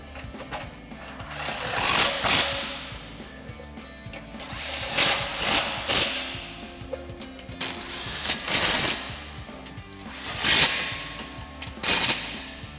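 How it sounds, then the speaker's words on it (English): Exhaust nuts on a Jeep Gladiator JT being tightened with 13mm and 18mm sockets on a power tool, repeated loud rattling bursts of the driver separated by short pauses. "Then we'll tighten down the rest with our 18mm socket"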